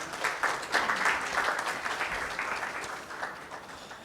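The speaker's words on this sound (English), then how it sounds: "can we have a good round of applause for sir?" A panel discussion audience gives a round of applause, with dense, steady clapping that runs for about four seconds and fades slightly toward the end.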